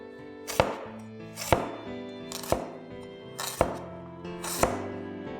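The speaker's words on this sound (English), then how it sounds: "just cut away the fibrous outer layers and slice up the inner core." A knife slices through broccoli stems with the fibrous outer layers cut away, five crisp, evenly spaced chops landing about once a second on a cutting board, close and clear with no talk.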